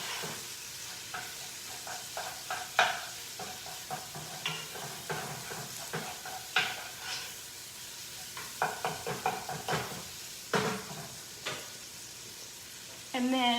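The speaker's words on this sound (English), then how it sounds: "we're going to saute the onion and the garlic and the butter in the pan" Onion and garlic sauté in butter in a pan for low-carb zuppa toscana soup, a faint continuous sizzle punctuated by irregular spoon scrapes and clinks against the pan, heard close with no talking.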